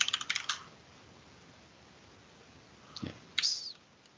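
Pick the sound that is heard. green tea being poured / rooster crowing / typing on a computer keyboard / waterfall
typing on a computer keyboard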